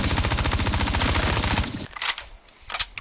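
Rapid automatic gunfire rattles in a steady fast burst for under two seconds in a video game, followed by a few scattered, fainter shots and ambient noise.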